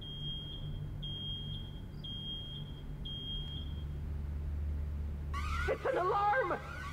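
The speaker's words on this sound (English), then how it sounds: "It's an alarm." In-game alarm beeping in the video game Road 96: a steady series of high electronic beeps, about one per half second, over a low rumbling background, stopping partway and followed by a burst of louder mixed sound.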